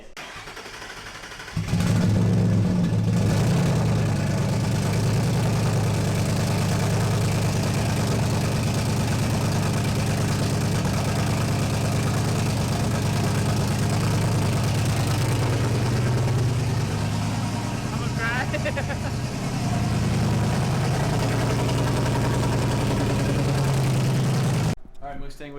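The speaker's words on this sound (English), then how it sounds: "The first time in 6 months I've heard the car run." A 2JZ-swapped Ford Mustang starts and settles into a steady, loud idle that runs close and continuous for over twenty seconds, with faint voices underneath.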